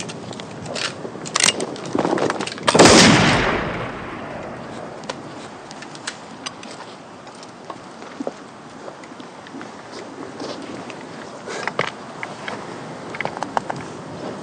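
A single rifle shot fired by Hagman outdoors, one sharp loud crack near the start that fades away, followed by quiet rustling and faint scattered sounds.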